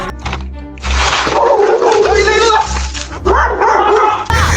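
A dog barks and yips loudly and close by in bursts, with whimpering notes between them, while a voice talks over it.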